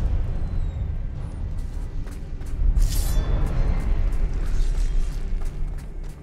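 In Hogwarts Legacy, a Confringo fire spell bursts into a loud, close, rumbling blast that swells mid-clip and lingers as a roaring, crackling tail, with no speech.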